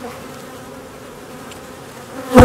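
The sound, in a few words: buzzing of an aggressive bee colony at the hive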